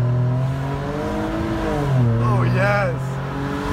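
A 2013 Ford Explorer with a muffler delete revs hard, its loud, raspy exhaust rising and falling in pitch during a brief wheel spin, while a person excitedly calls out over the engine.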